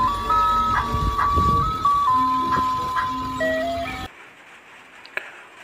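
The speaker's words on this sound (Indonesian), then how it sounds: "Wow, ini mobil es krim." A toy ice cream truck plays its tinkly electronic jingle, a clear looping melody of bright tones for about four seconds before cutting off abruptly, leaving a quiet room with a faint click.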